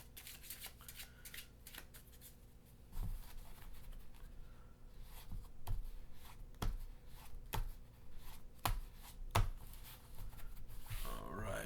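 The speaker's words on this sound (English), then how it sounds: "let me just give a quick shuffle here" A deck of playing cards is shuffled by hand, a run of soft riffling and snapping clicks, irregular and close, with a faint hum underneath.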